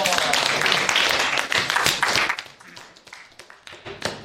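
A class of JROTC cadets gives a round of applause after a public speaking presentation, dense clapping at first that thins into scattered individual claps with some voices among them.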